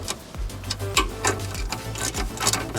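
A ratchet or wrench tightening the lower ball joint bolts on a VW Polo 9N3 GTI: a steady series of close rhythmic clicking ratchet strokes, about two per second.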